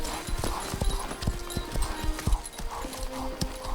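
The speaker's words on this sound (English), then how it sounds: "I've been chasing that horse for the better part of 2 years." A horse clip-clops steadily at a walking pace, its hooves close and distinct, while a soft whinny rises in the background of an outdoor Western film set.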